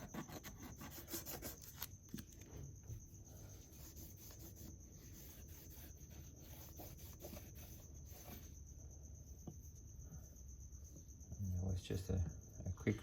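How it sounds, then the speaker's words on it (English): Crickets chirping in an evening garage, a persistent high trill running steadily throughout, with close rubbing and scraping from hand work on a bicycle derailleur over it. "The crickets are going crazy every evening."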